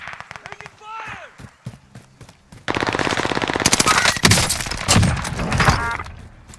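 Rapid automatic gunfire rattles in Call of Duty Warzone on the Caldera map, starting abruptly and sustaining loud bursts for several seconds, with players talking over the shots.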